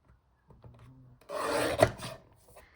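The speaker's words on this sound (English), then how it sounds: "I'm going to cut out 2 pieces of strips of papers." Scissors cut strips of paper close by, a soft rasping slice building over about a second with a few quieter snips and rustles around it.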